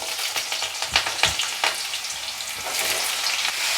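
Potatoes dropped into hot oil with nigella seeds and green chilies, sizzling loudly up close, with sharp crackles and pops at first that settle into a steady, dense frying hiss, no talking.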